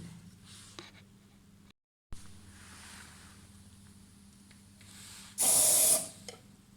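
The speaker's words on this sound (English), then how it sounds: "we are going to grab our hairspray and we are going to quickly spray it inside the jar before closing it again" Short hissing burst of hairspray shot into a glass jar for a cloud-in-a-jar weather experiment, loud and close for about half a second after quieter handling noises and a brief silent gap.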